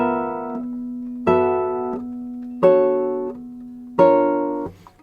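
Guitar finger independence exercise in ninth position with two fingers moving in opposite directions: four sustained two-note chords ring out one after another at an even, slow pace, clear and close with no speech.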